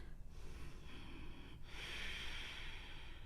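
Soft, close breathing during a yoga stretch, with slow audible inhales and exhales drawn through the nose and no speech.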